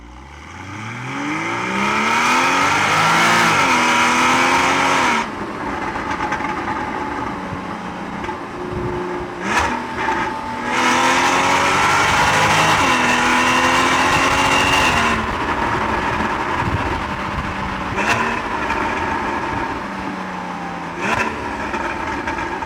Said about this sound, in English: when you get this car right up in the rev, even on the downshift there, when you get it working beautifully well, it sounds phenomenal